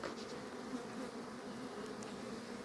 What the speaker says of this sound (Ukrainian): але бачите скільки бджоли